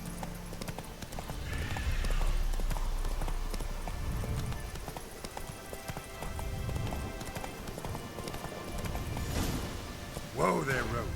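Roach, a horse in The Witcher 3, gallops with rapid clip-clopping hooves and a neigh, under game combat noise and a voice talking.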